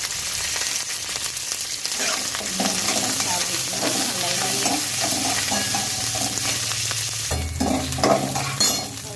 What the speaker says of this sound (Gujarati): લીધા છે અહીં આગળ મીઠી લીમડીના પાન અને આપણે લીલા મરચાં નાખી દઈશું હવે